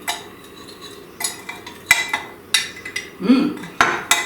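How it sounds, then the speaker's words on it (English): Snack mix being stirred together with kosher salt and unsalted butter in a bowl, giving a run of scraping, clinking utensil strokes at an uneven pace, close and fairly clear with no talking. "So I'm just going to mix all of this together, get it all combined."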